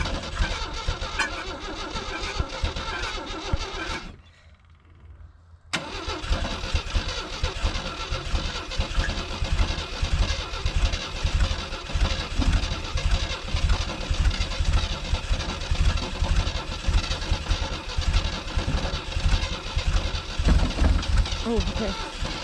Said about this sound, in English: give that starter a break a minute